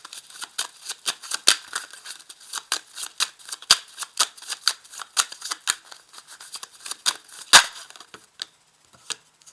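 Tarot cards are shuffled by hand in a quick series of crisp riffling flicks and soft slaps, irregular and close, with brief pauses before a card is drawn.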